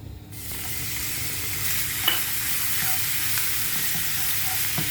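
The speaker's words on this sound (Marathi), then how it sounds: "पेस्टला जरा चांगली परतवून घेते आहे" Ginger garlic paste frying in a pan for a prawn rice dish, a sudden loud sizzle that settles into a steady hiss, with a few light spatula scrapes and taps close by, no speech.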